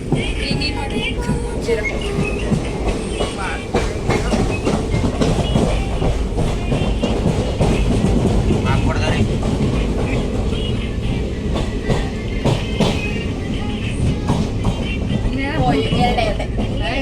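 Passing train heard from on board or close alongside, a loud continuous rumble with rhythmic clickety-clack of wheels over rail joints, steady for the whole stretch.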